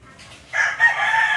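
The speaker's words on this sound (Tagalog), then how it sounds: "Ngingay ng manok, guys." A neighbor's rooster crows loudly from about halfway through, a sustained strained call preceded by faint clucking from the nearby chickens, with no talk.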